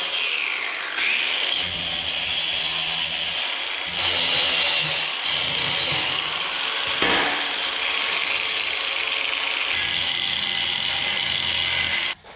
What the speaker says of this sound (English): I'm also gonna grind off those little angles